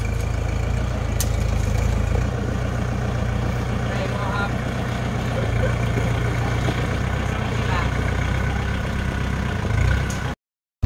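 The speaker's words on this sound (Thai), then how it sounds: "ถ้าใช้รถไถเนาะก็ค่อยๆขับนะครับ" A tractor drives slowly across a rice field at harvest, its engine a steady, loud, close rumbling drone throughout before it cuts off abruptly at the end.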